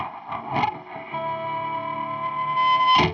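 Electric guitar driven through a Boss Metal Zone distortion pedal into a Randall Diavlo amp, heavily saturated notes held and sustained with a few picked attacks, loud and close, no talking.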